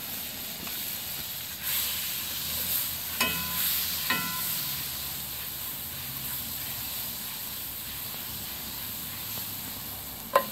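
A stick of butter sizzles in a hot pan alongside venison heart, a soft steady frying hiss broken by a few light clinks and stirring taps.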